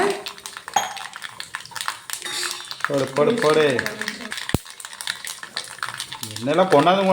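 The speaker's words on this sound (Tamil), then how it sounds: "சின்ன வெங்காயம் கருவேப்பிலை போட்டு நல்லா தாளிச்சு விட்டுக்கலாம்" Sizzling oil with small onions (shallots) and curry leaves being tempered for a Tirunelveli river fish curry, pan scrapes and stirring clatter, a sharp clank midway, while a person talks over it.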